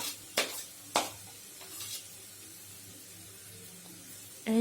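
Green chilies and garlic cloves hit a pan on low to medium flame, giving a couple of sharp clatters followed by a faint, steady sizzle.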